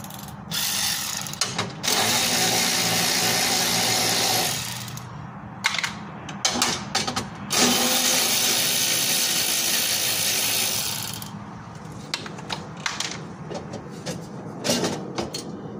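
A ratchet works the upper radiator bracket bolts loose on a Jeep Cherokee Sport, loud close clicking in several long runs of a few seconds, separated by short pauses and tool clatter.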